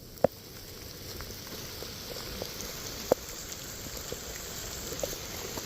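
Rain patters steadily across an outdoor disc golf course, a soft continuous hiss with a few sharper drops or ticks standing out near the start and middle.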